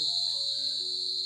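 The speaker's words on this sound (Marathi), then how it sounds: "रातकिड्यांचा आवाज ना भरपूर येतो" Dense chorus of crickets chirping at night just after light rain, a steady high-pitched trill that stays loud and continuous throughout, heard close from a house doorway with no voices.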